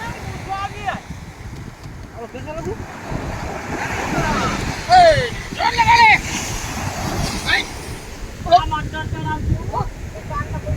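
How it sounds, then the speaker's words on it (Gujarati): Sea waves wash and surge along the shore, with wind buffeting the microphone and several people talking and calling out over the steady roar. "જો પાણીની મોજ"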